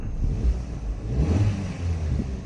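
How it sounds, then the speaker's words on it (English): A car engine revs up and holds a steady mid-pitched roar nearby, with rumbling low tones and slight rises in throttle. "car sounds healthy, stuff like that."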